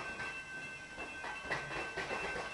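A train rolls past a city level crossing where a long line of cars waits. A continuous rumble with soft rhythmic wheel clatter sits at a moderate distance throughout.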